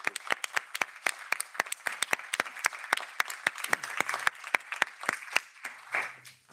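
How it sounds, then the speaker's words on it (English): Listeners at a talk on ending suffering for animals in the pet trade give a round of applause, sparse distinct claps from a modest crowd ringing out in an uneven rhythm, with faint murmurs near the end. "Can we have a round of applause for the..."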